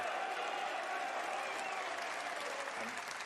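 A snooker crowd at the UK Championship claps continuously, a dense, steady roar of applause that holds loud and even throughout.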